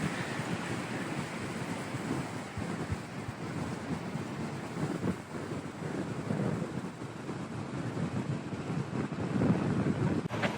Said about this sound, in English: I do apologize for the wind, but there's not much I can do when you're on top of a mountain.